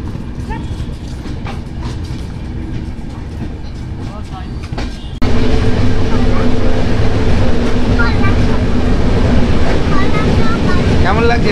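A passenger train on the Kolkata-to-Nepal route, heading toward Raxaul, rumbles steadily from inside the carriage with a rhythmic clatter and wind buffeting. The roar jumps louder halfway through, and a voice is faintly heard under the noise.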